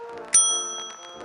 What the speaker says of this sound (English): A bell.